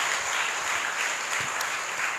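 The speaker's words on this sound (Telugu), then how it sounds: "అందరూ గట్టిగా చప్పట్లు కూడా దేవుని మహిమపరుద్దాం" A church congregation claps together at a Feast of the Exaltation of the Holy Cross service, a dense, sustained wash of applause filling the room without a break.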